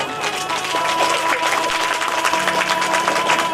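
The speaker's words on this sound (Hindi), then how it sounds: "इसीलिए हमारे आचार्य मंडली के लिए जोरदार ताली बजाओ" An audience at a religious katha gathering breaks into loud, dense applause for a group of acharyas, a continuous clatter of many hands that holds steady from start to finish.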